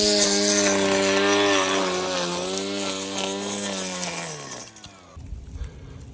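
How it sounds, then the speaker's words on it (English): A Greenworks 40-volt battery string trimmer edges a lawn with a loud, steady high-pitched motor whine. The whine winds down near the end, leaving quieter outdoor rustling. "So the Greenworks 40 volt trimmer is also advertised as an edger"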